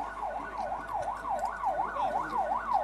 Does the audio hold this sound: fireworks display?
no